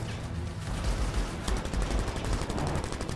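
Rapid machine pistol fire from the video game Anthem, a dense, continuous automatic burst with crackling impacts, loud and steady throughout with no speech.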